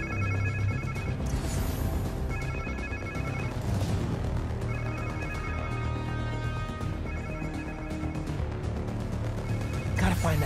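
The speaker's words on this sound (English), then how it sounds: "Sounds like somebody's phone." A phone rings within the Spider-Man 2 video game, a repeating electronic ring in regular bursts that sits under loud game music and action sounds throughout.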